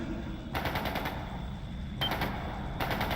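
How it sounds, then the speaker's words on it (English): Gunfire in the video game Trails into Reverie comes as two or three short bursts of rapid, crackling shots over a low rumbling background. "It's gunfire."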